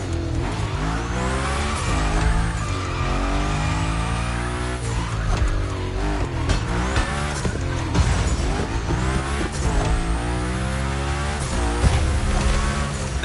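A drifting car in The Crew Motorfest gymkhana slides hard, tires squealing in long wavering tones over a loud, revving engine that rises and falls continuously throughout, with no speech.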